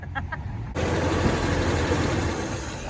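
A 1952 Pontiac that sat unused for 40 years revs its engine, a loud, broadband roar that starts abruptly and holds steady close up, after a moment of quieter rumble.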